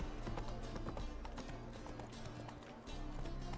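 Horse hooves clip-clop rapidly at a gallop in The Witcher 3 game world, a steady rhythmic drumming that runs throughout at moderate level.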